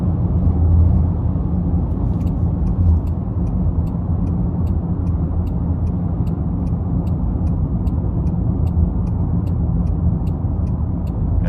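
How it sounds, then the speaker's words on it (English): A 2023 Land Rover Defender 90X with a 3.0 turbocharged inline-six pulls under throttle on the road, a steady, loud, low drone heard from inside the cabin, with a faint rapid ticking running through it. "Give it a little throttle here. Yeah, really good pull from that Turbo 6."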